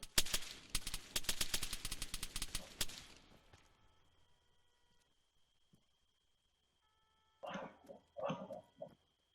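Gunfire in the military video game Arma 3: a sustained burst of rapid automatic shots, loud and close, tapers off into near silence, then voices speak briefly over faint radio tones.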